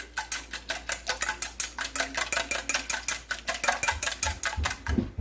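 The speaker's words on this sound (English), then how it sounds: "whisk the eggs and the milk together very well" A whisk beats eggs and milk together into a wet batter, producing a fast, steady run of bright metallic clinks against the bowl that keeps an even rhythm throughout, with no talking.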